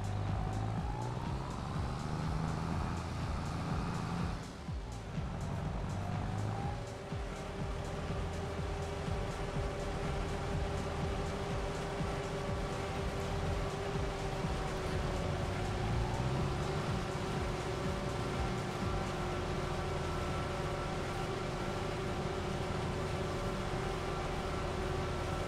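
A Claas Jaguar forage harvester chopping a corn field in Farming Simulator 22, a steady, dense engine drone with whining tonal hum that holds unbroken throughout.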